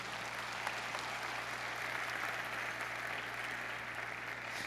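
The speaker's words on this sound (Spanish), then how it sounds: "¿Alguien le puede dar un aplauso a Jesucristo por eso?" Steady applause from a large crowd fills the space, continuous and even, with a low hum underneath.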